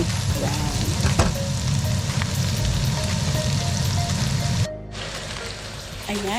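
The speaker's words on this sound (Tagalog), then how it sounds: "Now, let's saute the garlic and ginger." Garlic and ginger saute in a pan for spicy chicken, a steady close sizzle and crackle that cuts off abruptly near the end, leaving a quieter hiss before it briefly resumes.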